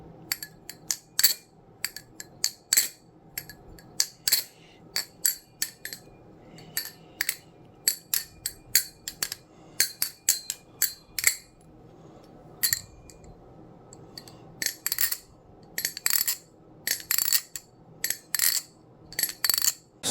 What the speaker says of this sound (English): And then here's the sound test for the new V2 Medusa.